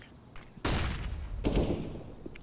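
A flashbang grenade going off in the video game CS:GO, two sharp bursts in quick succession, loud and close, each followed by a brief noisy decay.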